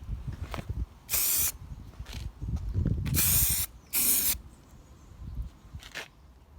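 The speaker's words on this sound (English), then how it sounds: "we have self-etching primer, so we're going to shake this up pretty well and get ready for paint" Aerosol can of self-etching primer shaken with a rattling clatter, then three loud steady hissing spray bursts, followed by a fainter final burst and more rattling.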